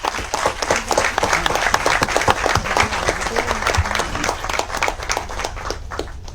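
Audience applause for a couple at a wealth-creation anniversary celebration, a loud, dense wash of clapping from a large crowd that stays steady throughout, with scattered whoops and faint voices mixed in.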